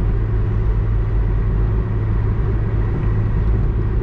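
Worn 1992 Citroen ZX engine droning steadily at high speed on a highway, a loud, constant low rumble with road noise and no talk.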